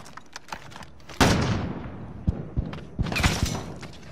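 Gunfire in a first-person shooter game: a sharp loud blast followed by a long decaying burst, then several short punchy shots spaced irregularly, close and unaccompanied by talk.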